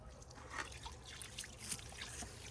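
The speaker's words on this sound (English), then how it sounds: "Now, I just try to water around the base of the plants." Water trickles and drips steadily onto soil around the base of garden plants, a soft continuous splashing close by with faint outdoor background.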